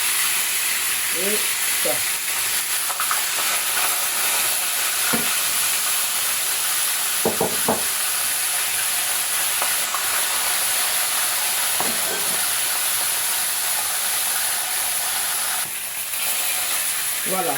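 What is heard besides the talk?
salted fish frying in hot oil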